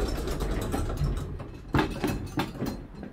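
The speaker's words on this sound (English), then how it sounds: "That motor sounds weird." Vintage IECO hydraulic elevator motor running in an office building, an uneven mechanical whirring with irregular clunks and ratcheting knocks, fairly close and continuous.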